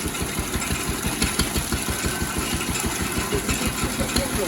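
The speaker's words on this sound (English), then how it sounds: "another engine here being brought to life via some very green looking water" A steady steam pumping engine chugs in a fast, even rhythm of low thumps, running continuously at close range with no voices.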